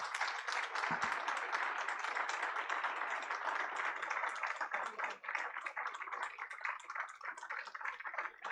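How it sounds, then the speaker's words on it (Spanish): Sustained audience applause fills a church during a bishop's episcopal ordination ceremony, dense steady clapping from a large crowd lasting throughout with no voices. "Fuerte el aplauso para el Padre."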